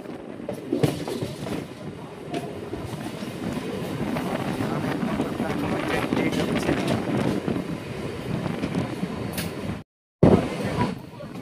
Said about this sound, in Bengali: বন্ধুরা আমরা এখন রামনগর স্টেশনে